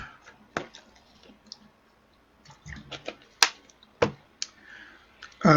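Scattered sharp computer mouse clicks and faint desk taps in a quiet room, several isolated clicks spread out irregularly, close and crisp with no talk.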